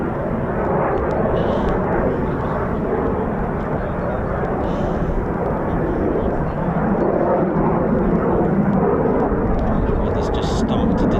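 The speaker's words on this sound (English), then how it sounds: "An aircraft starting up." A Eurofighter Typhoon FGR4 jet at an RAF QRA station starting up, giving a loud, steady broadband roar of engine noise that holds throughout, with faint voices mixed in.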